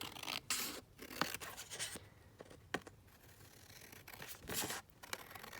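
Scissors snip through paper while pockets are cut down at a crafting workbench: a run of short, crisp cuts in quick bursts with quiet gaps between, close and fairly faint.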